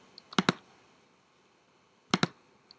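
Keys on a computer keyboard are struck in two quick pairs of sharp, close clicks, separated by about a second and a half of quiet, with no talking.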